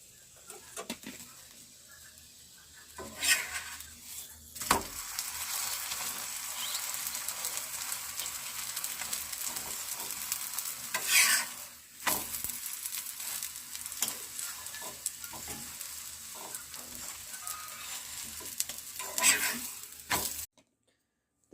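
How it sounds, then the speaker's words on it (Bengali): Aloo paratha fries in oil in a pan with a steady, close broadband sizzle, broken by brief louder spatters and scraping bursts near the start, middle and end. "তেল দিয়ে ভালো করে এটা ভেজে নেব।"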